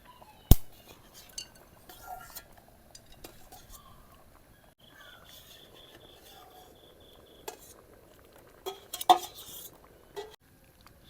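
Metal utensils clink and scrape against a pot of egg khichuri as fried eggs go in, with sparse, fairly quiet taps and a cluster of clattering knocks toward the end.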